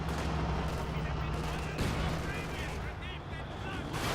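Machine gun fire in the strategy game Company of Heroes 2, a MG-42 raking enemy infantry, dense rattling bursts and battle noise at moderate loudness, running under a caster's continuous talk.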